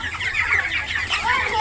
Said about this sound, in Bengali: এই যে মুরগিগুলো এখন দেখেন উঠে খাওয়া শুরু করে দেবে